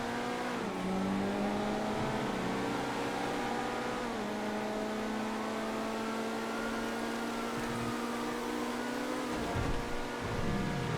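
Race car engine in the GTA FiveM game revs steadily and loud throughout, a sustained droning tone that climbs and shifts as gears change, with a brief dip near the end.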